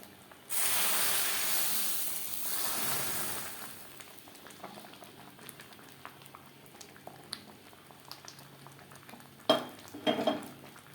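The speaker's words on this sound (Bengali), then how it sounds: "এই ফোড়ন বা তরকা দিয়ে দেবো ডালে আরও দু তিন মিনিট বেশ ভালো করে ফুটিয়ে নেব" Masoor dal with a fresh tempering bubbling in a pot, opening with a loud burst of sizzle and steam that settles into a steady low simmer, with a few sharp utensil clinks near the end.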